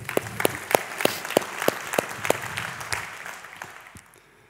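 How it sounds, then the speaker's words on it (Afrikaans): A church congregation claps in a slow, evenly spaced rhythm, each clap sharp and distinct, then the clapping fades out near the end. "Kom ons gee vir nog 'n hande klap."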